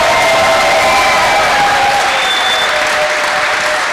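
A crowd at a startup pitch night claps and cheers loudly, a dense, sustained roar of applause filling the whole stretch without letup.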